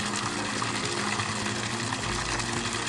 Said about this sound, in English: So this is our beautiful fountain.